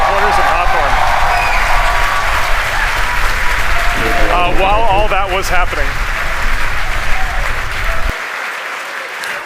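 A crowd at SpaceX headquarters in Hawthorne cheers and applauds loudly and continuously, whoops rising over the dense clapping while someone speaks over it.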